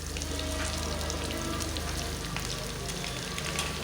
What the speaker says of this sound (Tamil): நறுக்கி வச்ச பாவக்காவை நம்ம பேனில் சேர்க்கணும்.